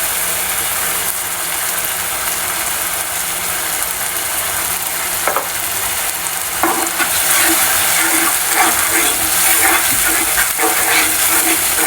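Spice paste fries in homemade ghee, a steady bright sizzle with scraping, clicking stirs growing busier toward the end.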